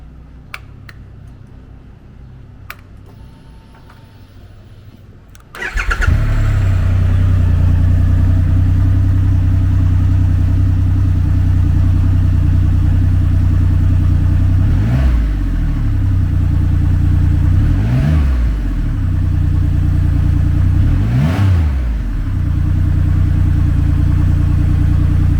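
A 2022 Triumph Rocket 3 GT with ABS, a large three-cylinder cruiser motorcycle, starts after a few seconds of quiet clicks, then idles with a loud, steady rumble, broken by three short throttle blips.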